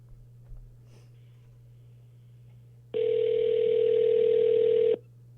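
A steady telephone dial tone sounds for about two seconds over a quiet line with a low hum, starting and stopping abruptly.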